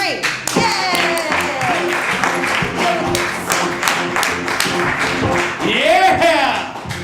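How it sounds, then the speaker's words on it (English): A live comedy crowd claps and cheers as a comedian takes the stage, steady rhythmic clapping with shouts and a voice rising over it throughout. "Always a jerk off clapping for himself."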